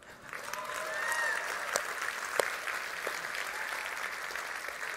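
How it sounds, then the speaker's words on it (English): Audience applause at a large tech company keynote, a sustained wash of clapping from a big hall crowd, steady and moderately loud with a few sharper claps and faint voices mixed in. "I need all of you to give me a round of applause"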